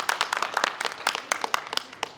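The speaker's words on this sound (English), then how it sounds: "Let's give Heather a round of applause." A town hall audience applauds Heather with brief, moderately close, irregular clapping from a modest crowd that fades slightly near the end.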